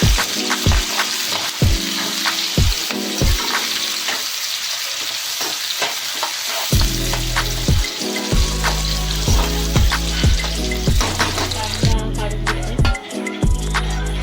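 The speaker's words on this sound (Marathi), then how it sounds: "कांदा असा करपवून घ्यायचा, थोडा लालसर." Onion frying in a pan until reddish brown gives a steady, loud sizzle throughout, broken by regular scraping strokes of a spatula stirring against the pan, close up and with no talking.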